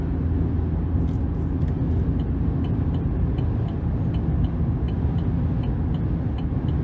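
A 2023 GMC Sierra 1500 Pro pickup with the 2.7-liter turbo engine cruises on the road, giving a steady, continuous low rumble of engine and road noise heard from inside the cab, with no talk over it.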